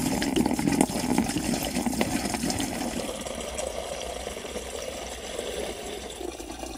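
Water pours into a Flextail Ezybag, a soft rushing and splashing flow close by, gradually settling into a steadier, quieter trickle.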